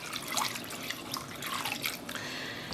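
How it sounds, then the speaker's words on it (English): Plain pre-soak water pours steadily into a dye basin for sock blanks, a soft, continuous splashing and trickling heard close up with no talking. "I'm gonna fill the basin so that way our blanks are well covered."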